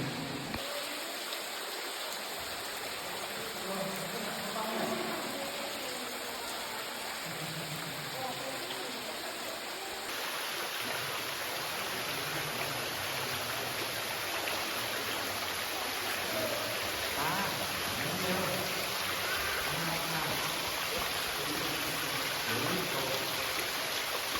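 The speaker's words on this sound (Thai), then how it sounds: "ตรงนี้ก็จะเป็นจุดน้ำตกนะครับ" Waterfall inside Pha Nang Khoi cave in Phrae, Thailand, heard as a steady, faint broadband rush of falling water that continues without a break for the whole stretch.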